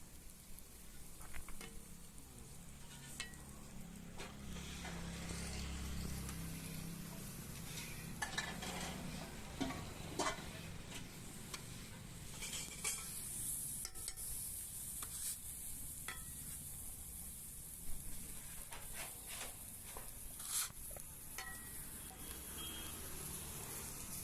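A spatula stirs tomato kalakki, a Tamil tomato-and-egg dish, in a hot pan. A low sizzle runs throughout, broken by scattered scraping strokes and small taps of the utensil against the pan.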